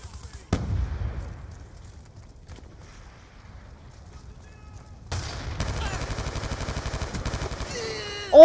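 Gunfire in a Call of Duty multiplayer match: a single loud shot early, then quieter stretches before a sustained rapid automatic burst of fire in the second half, ending in a sharp loud blast.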